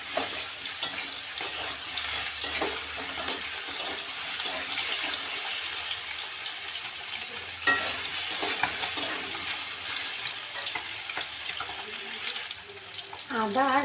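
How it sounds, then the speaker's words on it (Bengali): Vegetables for Bengali shukto fry with ginger and radhuni paste in a pan, giving a steady hiss and sizzle broken by scraping stirs and occasional clinks of the spoon. "আদা আর রাঁধুনি বাটাটা খুব ভালো করে ভাজা হয়ে গেছে, সবজির সাথে মিশে গেছে"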